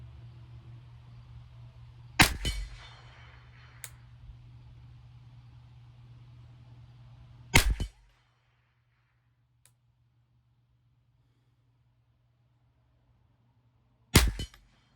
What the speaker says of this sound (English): All right, guys, 5 shots.